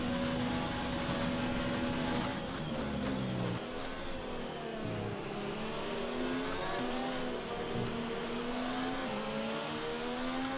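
Formula 1 race car engines from the F1 2019 video game whine at high pitch in a continuous, loud drone, shifting through gears with rising and falling revs as the car runs the lap, with no talk.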